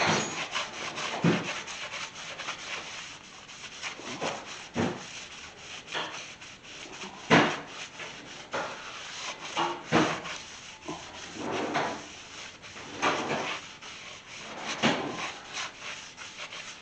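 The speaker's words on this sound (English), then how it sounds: "wipe it down really good, and get that coating off of there so we don't burn up brand new clutches" Brand-new clutch parts for a 1985 K3500 squarebody truck with a 383 engine are wiped down by hand to remove their oily coating, making repeated irregular rubbing and scrubbing strokes up close.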